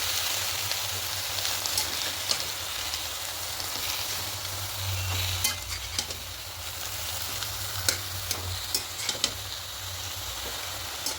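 Spinach and bottle gourd stirred together in a hot pan for a vegetarian ghonto, with a continuous sizzle, a low hum beneath and sharp spatula clicks and scrapes toward the end.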